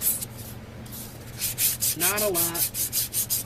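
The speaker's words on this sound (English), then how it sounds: "we're going to bevel it just a little bit using sanding paper" Sandpaper is rubbed along the edge of a handmade dungeon tile to bevel it, producing close, rhythmic scratchy strokes in quick succession, with a brief spoken remark partway through.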